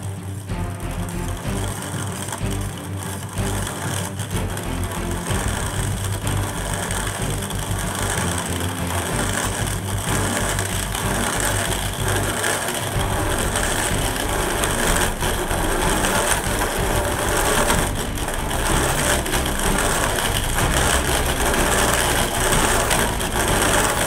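A gearbox spun by a makeshift hand crank produces a steady, loud mechanical whir and drone that runs continuously throughout, with slight shifts in pitch but no pauses and no voices.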